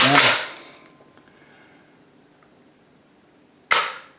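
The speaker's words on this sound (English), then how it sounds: "I'll dry fire it. Show you how it dry fires." A PTR 9CT 9mm semiautomatic MP5 clone is dry-fired, giving a sharp, close metallic trigger click. A second crisp snap follows a few seconds later, with near silence between them.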